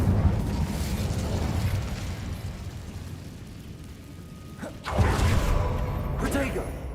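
An Incendio fire spell in Hogwarts Legacy lands as a sudden whooshing burst near the end, over a low rumbling background.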